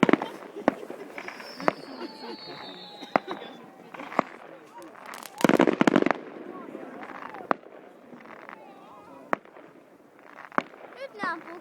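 New Year fireworks in Vaasa, Finland burst with scattered bangs and crackles, some near and some distant, while people talk throughout and a whistling rocket rises.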